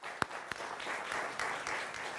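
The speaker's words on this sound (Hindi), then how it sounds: "आप दोनों के लिए जोरदार तालियां।" Studio audience at a televised political debate clapping briefly, with a couple of sharp early claps followed by a soft, fairly quiet patter of applause.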